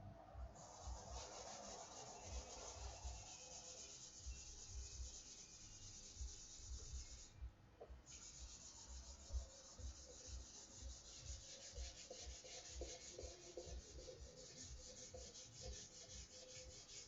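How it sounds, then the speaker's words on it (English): Guitar body wood being smoothed with a sanding belt, a continuous faint rubbing and rasping with steady back-and-forth strokes, close by and without talk. "And you're sanding out like imperfections actually in the wood."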